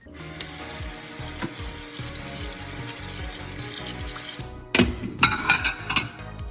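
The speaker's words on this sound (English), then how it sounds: "I'm gonna do the dishes while they're gone." A kitchen sink tap runs steadily while dishes are washed, then dishes clatter and clink sharply near the end as the water keeps flowing, with no voices.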